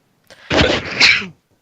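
A single loud, close sneeze with a short sharp intake before the burst.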